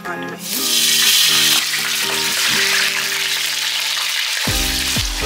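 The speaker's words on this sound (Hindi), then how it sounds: "मटन को हम ऑयल में भून लेंगे अच्छे तरीके से जब तक इसका कलर चेंज ना हो जाए।" About three pav of mutton frying hard in hot oil in a karahi for Lahori dhaba-style mutton karahi. A loud, continuous sizzle dominates throughout, with an occasional stirring clatter and a faint tonal background.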